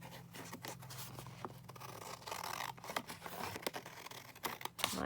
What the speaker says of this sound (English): I'm just going to cut it across here.